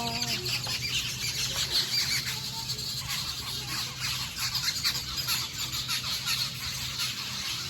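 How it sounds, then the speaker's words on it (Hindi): A flock of small birds chirps and squabbles, with shrill squeals and squawks overlapping densely and continuously, and brief wing flutters mixed in. "चिड़िया देखो कैसी चहक रही है भाई।"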